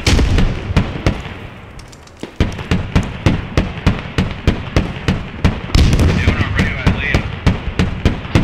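Frag grenade blast in the tactical shooter Squad, on the Skorpo map with Ukrainian forces defending against a Russian assault, surrounded by a steady run of loud, sharp bangs and gunfire-like cracks repeating close together for the whole stretch.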